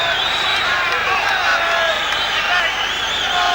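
Boxing arena crowd at a Chris Eubank fight against Thurlane Malinga, a continuous loud roar of cheering and shouting that swells throughout, with a commentator's voice over it.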